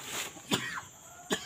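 A person coughs two short, sharp times about three quarters of a second apart, close and moderately loud in a quiet room.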